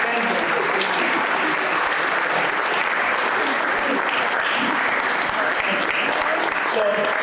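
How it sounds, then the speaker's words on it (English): A round of applause for teachers at a Day of the Seafarer 2023 event in South Africa, steady dense clapping from a crowd that holds at an even level throughout. "let's give them a hand, a round of applause"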